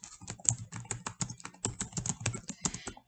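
Steady typing on a computer keyboard, with rapid, fairly close key clicks running continuously and no talking.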